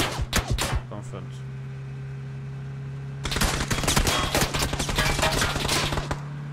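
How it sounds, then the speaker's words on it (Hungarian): Rapid automatic gunfire crackles in a shooter video game, a short burst first, then a pause with a steady hum, then a long sustained barrage of loud, dense shots. "A te oldaladról lőnek, és én sérülök meg."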